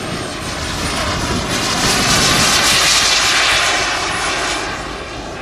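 An aircraft flies a display at an air show, its engine a loud, sustained roar that swells and eases slightly as it passes, with no voices over it.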